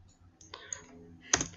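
Keys clicking on a computer keyboard, a few scattered soft taps followed by one sharper, louder click near the end, close by and quiet.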